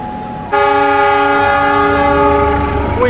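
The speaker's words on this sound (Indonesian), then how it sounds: "ada kereta api Bengawan. Melintas langsung stasiun Cikampek" The Bengawan passenger train sounds a loud, sustained multi-tone horn as it runs straight through Cikampek station, with the rumble of the rolling cars close by underneath.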